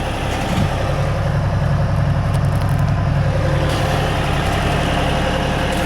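A compact tractor engine running steadily during loader work, a loud continuous low rumble with an even, unchanging drone and no voices.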